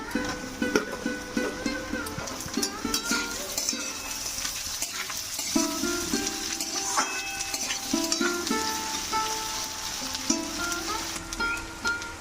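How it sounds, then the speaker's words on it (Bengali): Potatoes and chopped onions frying lightly in a pan for khichuri, a steady sizzle with frequent stirring and scraping of a utensil against the pan, close and continuous with no talk. "আলুর সাথে পেঁয়াজগুলো হালকা ভাজা হয়ে গেছে"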